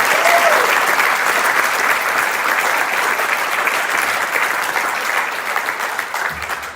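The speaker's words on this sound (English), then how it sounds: "how about another round of applause for the 8th grade jazz?" Sustained applause from a school concert audience after an 8th grade jazz band performance, loud and steady throughout with a slight fade at the end.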